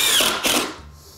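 A power drill drives screws into bulkhead framing in a new home, giving two short, loud whirring bursts close by with no talk.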